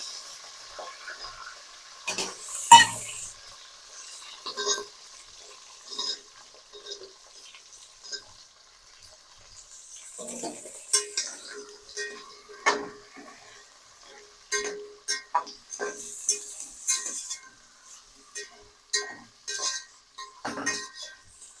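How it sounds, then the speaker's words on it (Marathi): Mixed vegetables for veg pulav go into a pan to fry, bringing a quiet sizzle with scattered clinks and scrapes as a utensil stirs against the pan. "आता आपण त्याच्यामध्ये सगळ्या भाज्या टाकूया तळण्यासाठी"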